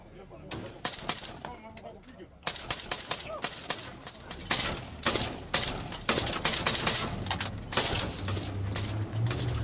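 Gunfire erupts around a Kenyan police patrol in a Haitian street, a rapid series of sharp cracks and bursts that grows denser, with voices talking underneath.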